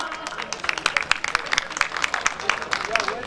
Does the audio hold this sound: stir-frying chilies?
no